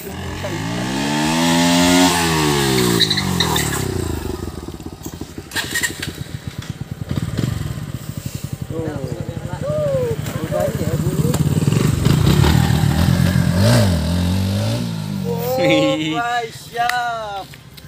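A motorcycle engine revs repeatedly in sharp rising and falling bursts during a wheelie attempt on a road, loud and close, while people talk and call out over it between the throttle blips.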